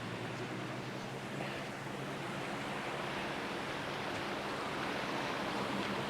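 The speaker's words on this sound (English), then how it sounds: "It's a nice little creek there." A small woodland creek along a hiking trail near DeSoto Falls, Georgia, with leaves down, flows in a steady, soft rushing wash that stays even throughout, no voices heard.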